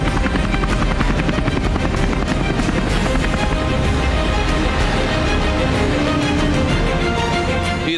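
Military helicopters roar overhead in flight, a dense, continuous rotor thrum and engine drone that stays loud and steady throughout with no voices.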